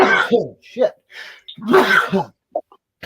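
A single loud, close sneeze bursts out between bits of conversation, with people talking before and after it.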